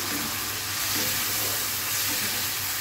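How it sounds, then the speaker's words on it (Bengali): Shrimp being stirred and fried in a reduced spice masala, a dense continuous sizzle with faint scraping of the spoon, fairly loud and steady, no talking. "এখন মাছগুলো দিয়ে ভালো মতো নেড়ে কষিয়ে নেব।"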